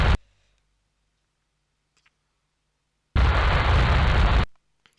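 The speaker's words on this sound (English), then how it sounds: "the massive explosion as the bottom stage is obliterated by the force of the jets." A rocket's bottom stage explodes in Kerbal Space Program as a loud, dense burst of roaring noise that lasts over a second, after a short earlier blast and near silence in between.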